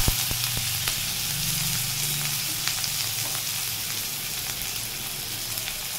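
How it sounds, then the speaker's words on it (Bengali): Onion and green chilies fry in oil in a wok with a steady, close sizzle and faint crackles, under a low background hum. "এই পেঁয়াজটা আর লঙ্কাটা আমি এখানে একটু ভেজে নেব"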